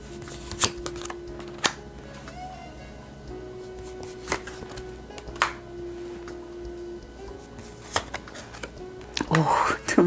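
Tarot cards being shuffled and handled, with scattered crisp card slaps and riffles up close, while someone talks throughout.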